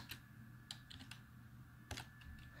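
Quiet computer keyboard typing, a few sparse, close clicks and key taps spaced irregularly over a soft room hum, with no talking.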